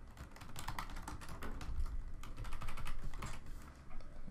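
Rapid typing on a computer keyboard, a steady stream of close, crisp key clicks with brief pauses, heard alone without talk.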